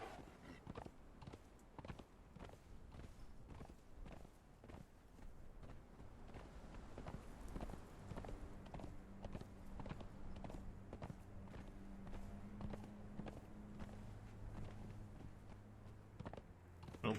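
Horse hooves plod along at a steady walking pace in the video game Conan Exiles, a soft repeated clip-clop mixed with faint game ambience and a low tonal hum, no voices.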